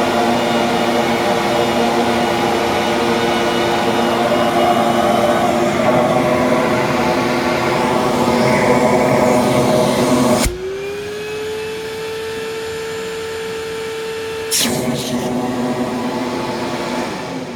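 A ProTeam Tailvac DT 100 vacuum fitted with a 1.5 inch hose runs loud and steady with a high whine, then its pitch shifts and settles into a lower sustained drone before a brief burst of louder airflow.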